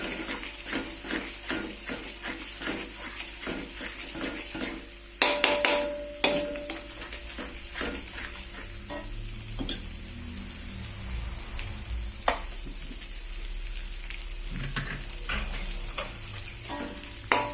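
A spice paste for yellow rice with chicken intestines, liver and gizzards is stirred and fried in a pan, with steady sizzling and rapid rhythmic spatula scrapes that turn sparser and softer later on.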